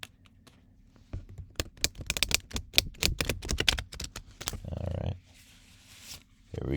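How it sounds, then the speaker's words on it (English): A deck of playing cards riffled in a big shuffle, a rapid burst of crisp flutters and snaps followed by a brief bridging rustle, close and clear with no talking. "I'm going to do the big shuffle first."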